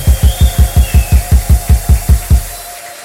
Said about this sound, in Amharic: ይሁንልኝ የሚል እልልታ ጭብጨባ ያመጣ